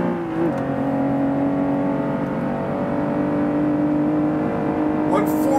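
A car in Forza 5 at full throttle on a straight at Road Atlanta, a steady loud engine drone holding a high even pitch, with someone talking over it.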